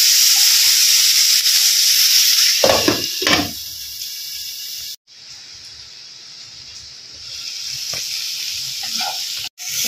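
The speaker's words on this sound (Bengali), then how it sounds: "দেখো, ভাজা ভাজা হয়ে যাচ্ছে।" A spice mixture sizzles steadily in a pan for a fish curry, with a burst of stirring clatter early on, then the hiss drops away briefly and returns quieter, close up with no voices.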